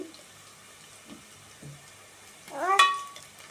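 Ginger-chilli paste frying in a pan for a drumstick chicken curry, with soft sizzling and stirring scrapes that swell into a louder hiss near the end, no talking.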